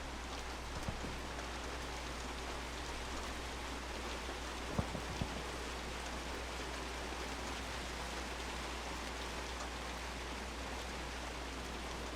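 Steady rainfall in Hunt: Showdown, a dense continuous hiss of rain on surfaces with a few faint soft knocks or footsteps underneath.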